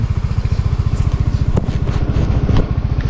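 Motorcycle engine running loud and close with a rapid, steady pulsing throb, ridden on a rainy day, with occasional clatter over it and no talk.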